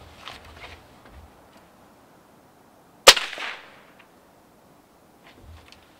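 A Gamo Magnum break-barrel air rifle fires one sharp, loud supersonic crack, close and sudden, followed by a brief fading tail and quiet room sounds on either side.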